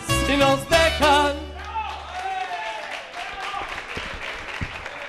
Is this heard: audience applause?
yes